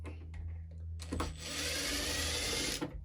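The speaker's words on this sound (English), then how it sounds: "Cheating with the drill gun because nobody got time for that." A power drill removing screws from a ramp truck whirs in one short burst, then runs longer in a steady high-pitched spin before stopping, close and fairly loud.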